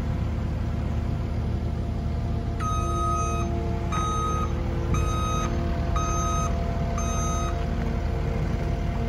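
Truck backing up, its reversing alarm giving five evenly spaced beeps over a steady rumbling engine idle, fairly close.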